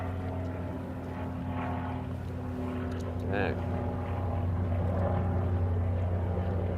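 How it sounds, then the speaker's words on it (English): A helicopter's steady droning rotor hum passes over a low-tide fishing spot by a dock, loud and continuous throughout, with people talking over it. "Oh, helicopter's coming to save us."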